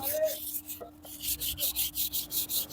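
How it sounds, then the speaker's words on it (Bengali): A stained brass plate rubbed with Pitambari cleaning powder using a plastic carry bag, close scratchy strokes repeating in a steady rhythm of round motions, loud and alone. "আবার ওই ক্যারি ব্যাগ দিয়ে এই দেখুন ঘষছি কীভাবে দেখুন রাউন্ড শেপে কিন্তু ঘষছি আমি"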